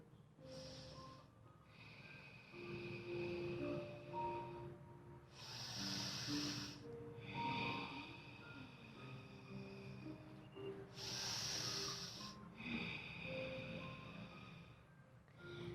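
Slow, deep breathing as a stress-relief exercise: long breaths drawn in and pushed out in two strong, noisy bursts a few seconds apart, heard close over faint background hum, with no talking.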